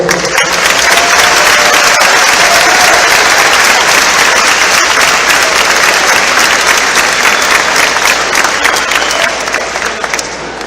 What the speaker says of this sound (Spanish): Recibámoslo con otro fuerte aplauso, por favor